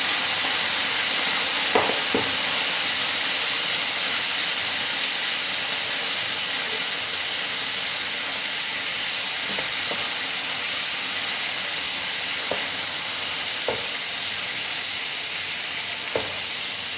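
Jackfruit chips frying in hot oil give a steady, even sizzle and hiss throughout, with a few faint clicks and pops scattered on top and no one talking.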